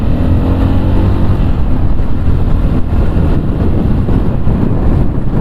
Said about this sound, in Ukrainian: Притормозив, скидаю на третю, щеплення відпускаю, їду знову.